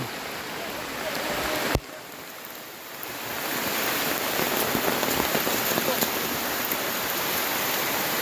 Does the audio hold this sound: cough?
no